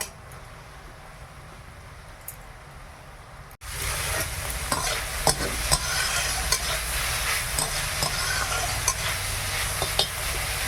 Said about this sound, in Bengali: লাউ পাতা থেকে জল উঠছিল জলটা আগে ভালো করে মেরে নেব আর ঢাকা দেব না